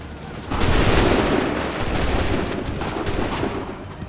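Musket volleys crackle in Assassin's Creed III, a loud burst of massed gunfire opening after half a second and rolling on as a dense, sustained fusillade with repeated waves of shots and no talk.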